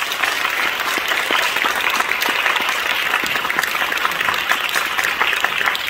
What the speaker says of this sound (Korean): 박수로 환영.